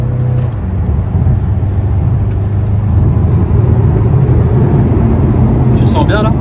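A Mercedes CLA 200 d diesel with AMG trim accelerating hard, a steady engine drone and road rumble building from inside the cabin, with a person talking over it.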